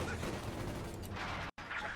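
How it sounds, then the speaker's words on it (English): Infantry support guns firing in Company of Heroes 2: a dense, continuous rumble of overlapping shots and blasts. The noise cuts out abruptly for an instant near the end, then resumes. "Shots flying, landing nearby, but not getting a direct hit."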